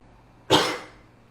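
A single sharp cough from a man, close and loud, bursting out of near silence and fading quickly.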